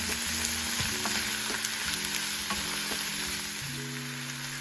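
Minced beef hits a pan of wilted shallots and garlic and sizzles loudly and steadily, a continuous close frying hiss with occasional stirring scrapes and no talk.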